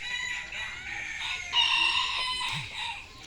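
A rooster crows in one drawn-out call, fairly near and loud, while other fowl cluck softly around it.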